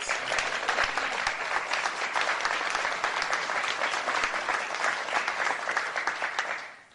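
Audience applause for Governor J.B. Pritzker at a legislation signing, a dense, steady roar of many hands clapping for about six and a half seconds before tapering off.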